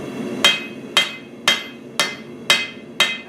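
A hammer striking a knife blade on an anvil to forge a bevel into the edge: six loud, evenly spaced metallic blows about half a second apart, each ringing briefly before the next hit, close and alone.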